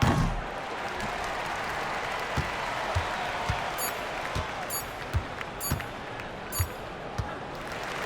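Home crowd applause at the end of a simulated UConn vs Duke March Madness basketball game on PS5, a steady cheering wash with scattered thumps and squeaks, under a commentator's voice.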